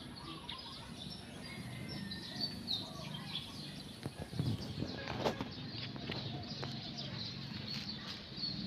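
A bird calls with short chirps over steady outdoor ambience at Cagsawa heritage park, and a wing flutter may come in midway.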